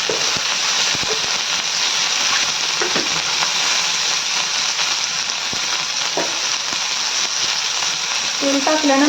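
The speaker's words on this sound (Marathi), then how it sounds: "छान अशी मिरच्यांचा आवाज येतो, तुम्ही बघू शकता. छान अशा मिरच्या आपल्या भाजायला लागल्यात." Green chillies roast in oil in a pan for a rustic chilli chutney, crackling and sizzling steadily and densely throughout at close range with small pops, no talking.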